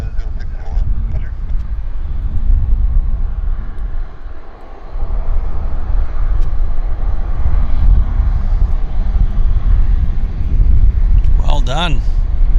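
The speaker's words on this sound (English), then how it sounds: "Air Canada Dreamliner." Air Canada Boeing 787 Dreamliner jet at an airport, a continuous loud engine roar filling the whole stretch, dipping briefly midway, with a brief radio-like chirp near the end.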